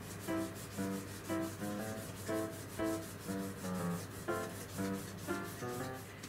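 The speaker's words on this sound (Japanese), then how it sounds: "ちょっと火入れを早くしたいんで切れ込み入れときます。" A knife cuts diagonal slits into sausages on a cutting board, a series of short scraping strokes at an even rhythm, about a dozen close, quiet cuts with brief pauses between them.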